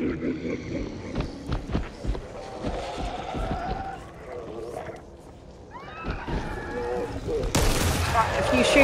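Gunfire in the co-op zombie shooter Back 4 Blood, with sharp shots and bursts scattered through a noisy game mix alongside other effects and voices.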